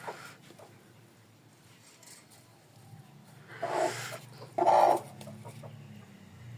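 A hen pecking at and eating her own freshly laid egg on a country chicken farm gives a few soft clucks, two louder bursts partway through over a low, quiet background.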